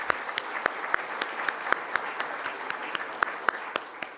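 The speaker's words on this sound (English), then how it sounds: "give a round of applause." Audience applause after a symposium keynote introduction, a steady wash of many hands clapping with sharp individual claps popping out, moderately distant and continuous.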